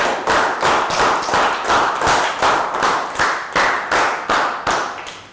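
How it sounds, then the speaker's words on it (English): Group clapping in a steady, rhythmic beat, about a dozen even claps in unison, loud and close with no voices. "So round of applause."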